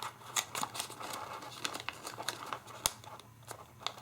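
Origami paper crinkling and rustling as it is folded and creased into a six-pointed star box, soft and close with scattered small crackles and one sharper crease snap.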